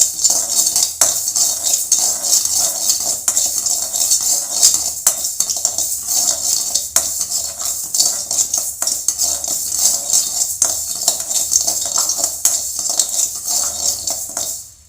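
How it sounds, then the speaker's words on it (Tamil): Dry rice grains being roasted and stirred in a pot, with a steady scraping and clattering of a utensil against metal that runs continuously and fairly loud throughout, with no voice. "இப்போ அரிசியை நம்ம நல்லா வறுத்து எடுத்துக்கலாங்க"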